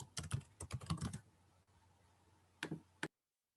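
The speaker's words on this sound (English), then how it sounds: "Is someone typing?" Computer keyboard typing heard in the background of an online math lecture: a quick burst of clicking keystrokes, a pause, then a few more taps, faint and close-miked with no voice over it.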